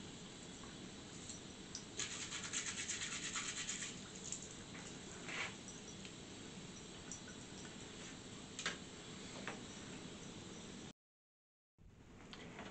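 A toothbrush scrubs tarnished silver, steady close rubbing strokes with a few sharper scratchy bursts, continuing alone for most of the clip before a brief silent break near the end.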